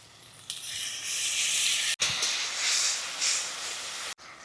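Cumin seeds, dried red chili and bay leaves hit hot oil for a Bengali koi fish curry, giving a loud, bright sizzling hiss that swells and briefly cuts out twice, with no talking.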